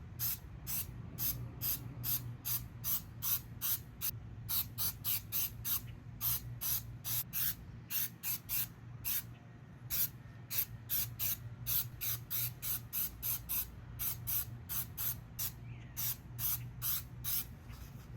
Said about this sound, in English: I sprayed quite a bit on there.